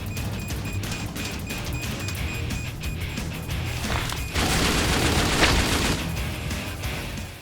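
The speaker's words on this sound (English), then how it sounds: "That's the sound of the tactical assault rifles, which are much better and stronger." Tactical assault rifle fire from The Darkness video game, a dense, continuous rattle of shots and booming impacts that grows louder and heavier midway, with no talking.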